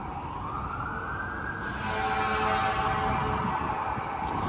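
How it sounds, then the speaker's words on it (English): Sirens wail in the distance in downtown Toronto's financial district at rush hour, a rising and falling tone that swells louder midway over a steady wash of traffic noise. "With the sound of sirens wailing in the distance."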